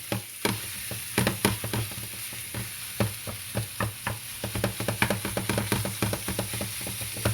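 Ground beef sizzles in a hot pan while a utensil chops and stirs it, sharp scraping taps repeating irregularly over a steady frying hiss.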